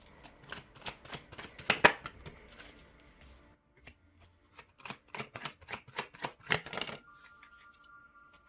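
Rapid riffling and slapping of tarot cards being shuffled, two busy bursts of crisp flicks separated by a short pause, close and quiet.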